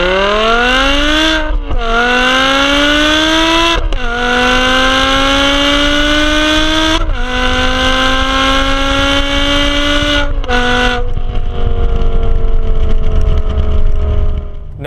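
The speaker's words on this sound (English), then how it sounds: "10-cylinder V10 engine, and it sounds absolutely insane" A 2007 BMW E63 M6's V10 engine howls through repeated rising revs, each climb cut off sharply before the next, then settling to a falling, lower exhaust note at the end; loud and close, no talk.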